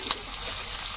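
Onion, garlic, ginger and green chilli with bay leaf frying in hot oil, giving a brief, steady, close sizzle that lasts about a second.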